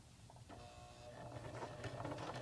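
A sewing machine runs steadily while stitching a flat fell seam, its quiet mechanical hum and light rapid ticking continuing close by with no talk.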